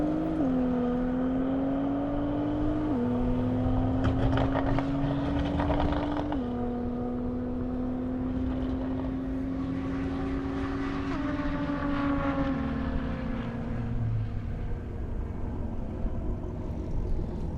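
A Nissan GT-R Nismo accelerates hard down an airstrip, its engine whine rising in steps through several gear changes over a steady roar, heard from some distance.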